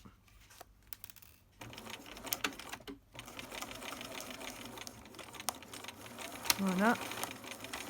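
A sewing machine runs in bursts while stitching a fabric face mask, its rapid mechanical whir starting and stopping with short pauses between; someone speaks briefly over it.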